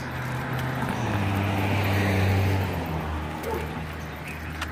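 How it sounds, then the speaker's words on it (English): A passing car heard outdoors on a suburban walk, a steady low engine and road rumble that swells toward the middle and fades away, with faint birds in the background. "My mom just drove by."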